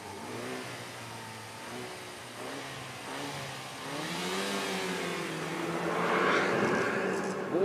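A car engine revs at a race event, a mid-pitched drone rising and falling in pitch through several revs, growing louder toward the end.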